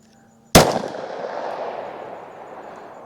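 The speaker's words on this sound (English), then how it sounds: "let's see what the extra inch from this Glock 22 can do" A single sharp Glock 22 pistol shot cracks loudly and alone, then rings out in a long decaying reverberation with no voices.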